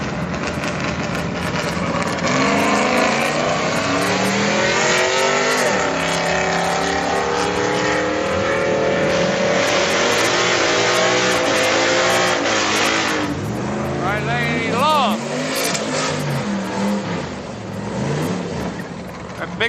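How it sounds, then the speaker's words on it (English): A V6 Mustang does a long burnout at a street car night, engine revving hard and steady with tire squeal, loud and sustained for nearly twenty seconds, with voices talking underneath. "It's a heck of a burnout for a V6 Mustang."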